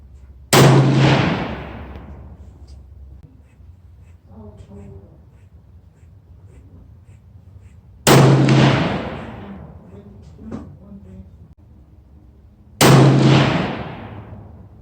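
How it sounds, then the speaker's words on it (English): Three loud, sharp shots from a .243 caliber Browning rifle ring out outdoors, each with a long echoing decay and several seconds of quiet between them. "Let's go do some shooting."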